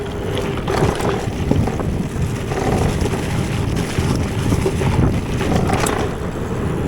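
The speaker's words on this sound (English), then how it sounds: "Fun little shredder-rooney on the Ride1Up bike as we go downhill out of the park." Steady, rumbling wind buffets the microphone as a Ride1Up Prodigy XC electric mountain bike rolls downhill out of a park, loud and continuous with faint gusting swells.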